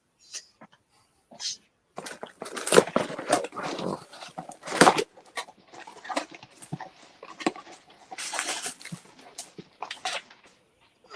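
A dog reacts in a room to loud speaker playback, with scattered brief yips and whimpers among bursts of clattering sound, moderately close and uneven over several seconds.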